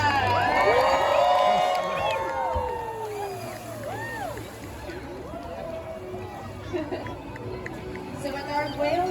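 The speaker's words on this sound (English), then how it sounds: "let's see if we can give her a little bit of a birthday cheer for Miss Shouka" A SeaWorld San Diego crowd cheers for an orca's birthday, loud whoops, shouts and children's squeals swelling at first and then settling into lively chatter, with a host's amplified voice speaking over it.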